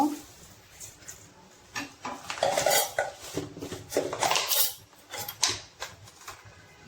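Dried mango pieces are mixed with dried chillies, sugar, salt and chilli powder in oil in a pan, heard as close, irregular scraping and clinks of a utensil against the pan, with no talk.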